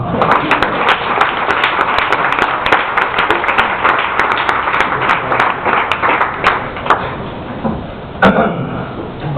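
Comedy club audience applauds an improv stand-up set, a dense sustained wash of clapping that carries through most of the stretch before thinning and dropping near the end, with a sharp burst close to the finish.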